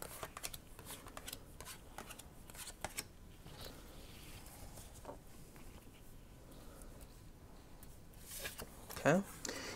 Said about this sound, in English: Now we are going to draw